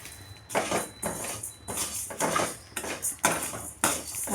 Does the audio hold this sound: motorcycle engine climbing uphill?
no